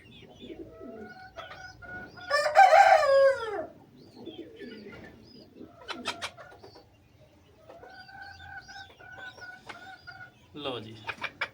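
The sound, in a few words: chickens clucking and rooster crowing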